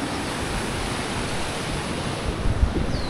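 Strong ocean waves and a powerful current rush continuously close by. Wind buffets the microphone, and the surge swells briefly near the end.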